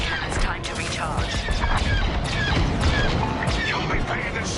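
Rapid laser cannon blasts and explosions crackle continuously in a busy Star Wars: Squadrons space battle, with voices talking over the din.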